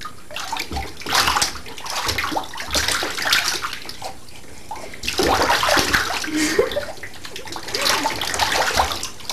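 Bath water sloshes and splashes in a tub as a baby is bathed, loud and close in repeated bursts with brief quieter gaps.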